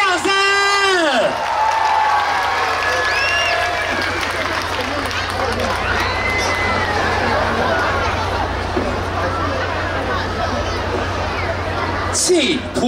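A large crowd at an outdoor folk arts troupe show during a temple festival in Taoyuan claps and screams steadily, a dense, loud wash of applause, whoops and chatter that carries on for the whole stretch after an announcer's voice.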